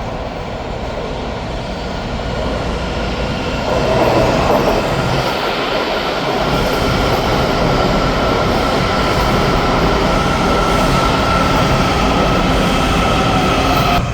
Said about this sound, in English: I like the Metro.